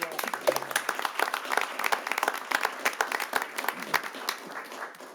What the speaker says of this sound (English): one more big round of applause for him